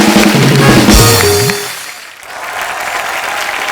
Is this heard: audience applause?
yes